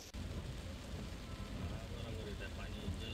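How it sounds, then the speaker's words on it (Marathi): Heavy rain falling on a city street in Chandrapur, a dense, steady hiss and patter with low rumbling underneath, fairly faint and continuous throughout. "मुसळधार पावसानं हजेरी लावली आहे."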